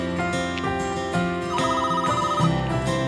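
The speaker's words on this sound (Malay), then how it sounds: "Telefon siapa bunyi tu?" A telephone ringtone plays close and clear, a repeating melodic electronic chime of several bright tones, heard alone without talk.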